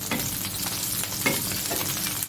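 Boiled eggs being rolled and fried in a little ghee, with a dense, continuous close sizzle and soft scraping stir strokes layered on top.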